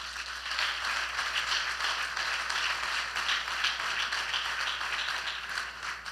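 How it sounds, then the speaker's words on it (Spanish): Church congregation applauding during a Spanish-language service, a steady wash of many hands clapping at even loudness for several seconds with no talking over it. "Dele un aplauso al Señor"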